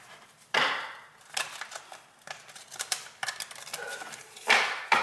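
Crisp riffling bursts of a tarot deck being shuffled, several quick flurries with brief pauses between, close and fairly loud.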